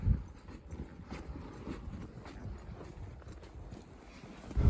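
Two horses named Trump and Jewel, ridden out to gather cows, walk with a steady, continuous patter of hooves, close and moderately loud throughout.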